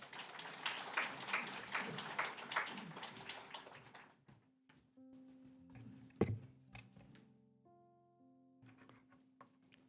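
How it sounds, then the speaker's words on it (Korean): A church congregation at a Sunday worship service claps for about four seconds to welcome an elder forward. The dense applause fades out and gives way to soft sustained keyboard tones. "박수로 한번 보시겠습니다"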